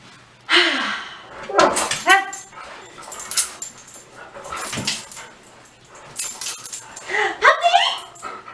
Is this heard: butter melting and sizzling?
no